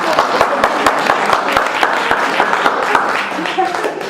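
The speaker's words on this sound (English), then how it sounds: "yourselves a nice round of" Audience at a live humor talk breaks into applause, a steady wash of clapping with sharp individual claps standing out, fairly loud throughout and never dropping off.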